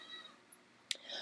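A pet cat meows close by while being fed, with a sharp click partway through and a short wailing cry at the end.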